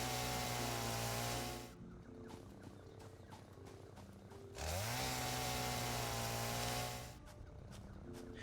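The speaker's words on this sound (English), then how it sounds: "the chainsaw will actually delete all the like harvestable objects in a short radius" A chainsaw in the video game Satisfactory revs loudly in a droning, buzzing whine, drops to a lower idle, then surges back up before easing off again.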